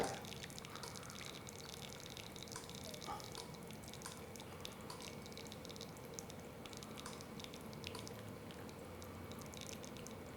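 Water drips steadily through a pour-over cold drip coffee brew, a faint continuous soft patter and trickle with low background noise throughout.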